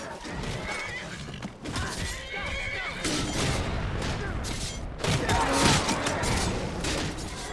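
Horses whinny and neigh amid a chaotic video game battle din of clattering hooves and bursts of gunfire, with a voice briefly heard.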